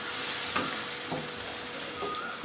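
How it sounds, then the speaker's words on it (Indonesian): Water poured a little at a time into a pan of spice paste frying for Javanese vegetable lodeh, giving a steady low sizzle with a few soft stirring scrapes. "setelah bumbunya agak kering, ini kita masukkan sedikit demi sedikit air"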